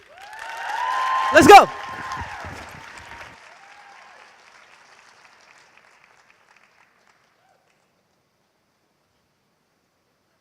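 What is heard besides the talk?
audience applause for speaker Barbara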